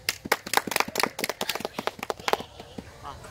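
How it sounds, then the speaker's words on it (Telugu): A small group at a men's rangoli competition claps in quick, uneven bursts of sharp close claps, fading toward the end. "క్లాప్స్ రే ఇంకో ఒకసారి"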